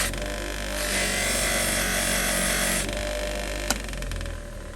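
An old bench grinder runs while metal is polished against its wheel, a loud steady whine with a harsher stretch in the middle and a single sharp click near the end, close and continuous with no voices.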